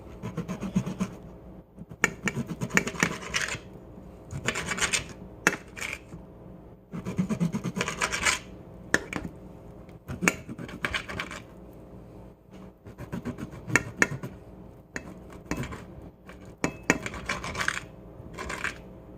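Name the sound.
knife cutting pork chop into strips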